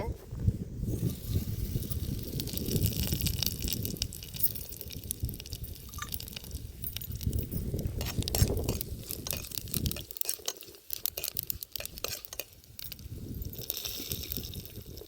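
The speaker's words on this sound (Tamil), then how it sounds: "எண்ணெய் சூடாயிருச்சு சோம்பு கருவேப்பிலை ரெண்டு செஞ்சுக்கிறேன்" Fennel seeds and curry leaves crackle and hiss in hot oil in a village kitchen, with a soft, uneven sizzle running under a person talking.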